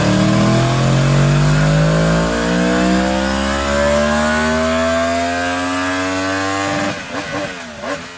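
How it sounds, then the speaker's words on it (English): Yamaha MT-10 motorcycle with a CP4 crossplane inline-four engine revving hard under full acceleration, a loud, near, rising engine note with a V4-like growl that climbs steadily for about seven seconds before easing off with brief stutters. "This unconventional firing interval gives the CP4 a sort of V-twin or V4 type sound, and it's just a beautiful noise, especially under full acceleration."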